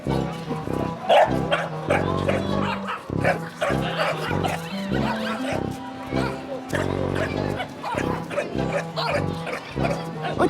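A pet dog barks repeatedly, trading barks with another dog outdoors, mixed with busy background noise and people talking nearby.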